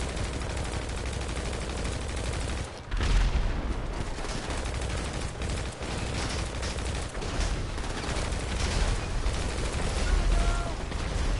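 Gunfire in the video game GTA 5: dense, continuous rapid shooting with bursts and booming impacts, loud and sustained throughout, with a brief dip partway through.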